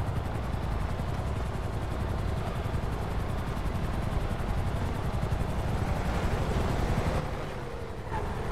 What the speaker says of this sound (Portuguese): O helicóptero tá rodeando.